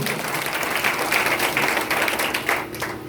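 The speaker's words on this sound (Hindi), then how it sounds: "एक जोरदार ताली आप सबके लिए।" Audience at a DXN distributor training session claps together in a loud, continuous burst of applause with no talk over it.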